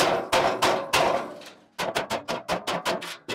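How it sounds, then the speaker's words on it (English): A sledgehammer pounds a metal burn barrel, four heavy ringing blows spaced apart, a pause, then a quicker run of about eight clanging hits, loud and close with no voices. "If all else fails, get the old sledge out."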